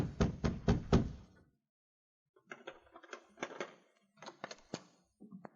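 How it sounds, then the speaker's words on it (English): Four sharp knocks on a door in quick succession, a pause, then a longer series of irregular knocks and rattles. "A few moments later, the sergeant knocked on Baird's door."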